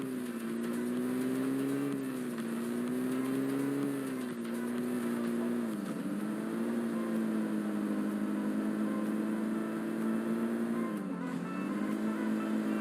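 Vehicle engine in the video game PUBG, driving continuously: a loud, steady motor drone that sweeps up and down in pitch as the car speeds up and slows, with no voices over it.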